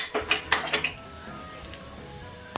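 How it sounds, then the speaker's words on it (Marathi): A pressure cooker lid is set on over bitter gourd curry with several quick metallic clinks and clatters up close, then quiet. "आता एक कुकरची बारीक याच्यावर झाकण ठेवून द्यायची."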